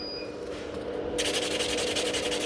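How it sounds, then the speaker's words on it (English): Fingernails being filed with a nail file, a steady close scratchy rubbing that grows louder and brighter in rapid back-and-forth strokes partway through. "So when I'm filing like this, I can file a little bit faster."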